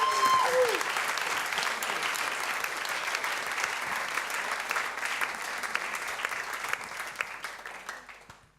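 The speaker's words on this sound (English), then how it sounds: "we ask a big hand of applause" Sustained applause from an evening show audience welcoming a performer to the stage, a dense steady clatter of many hands that fades out near the end, with a brief whistle-like tone at the start.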